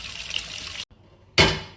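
Crab is rinsed under a running kitchen tap, a steady hiss of pouring water that stops briefly and then resumes with a louder splashing gush, close by with no talk.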